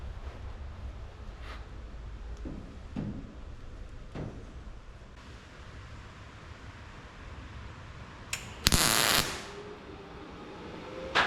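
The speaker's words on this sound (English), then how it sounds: "Okay, a little tack weld." A brief, loud crackling burst near the end marks a tack weld on a 1967 Chevelle body panel, with a quieter lingering hiss afterward. Low hum and faint scattered ticks fill the background.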